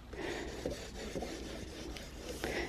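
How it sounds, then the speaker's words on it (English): A glued paper flip book being burnished flat by hand, giving a continuous dry rubbing and scraping sound, close and steady, with a few firmer strokes and no voices. "And then you give it a good burnish, a good rub down."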